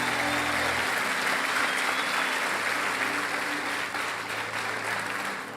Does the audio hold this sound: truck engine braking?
no